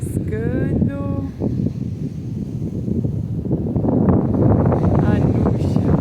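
Wind at a beach campsite in Santa Catarina gusts steadily across the microphone as a constant rushing roar, with someone speaking briefly near the start.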